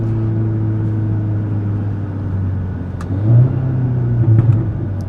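A 2017 Audi S3's exhaust booms steadily under acceleration, heard from inside the car, with a sharper surge and burble rising in the last two seconds.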